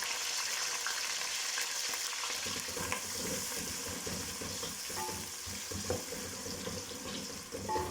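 Finely chopped onion fries in hot oil for kadhi, a soft, continuous sizzle with faint stirring and crackle, quiet and without talk.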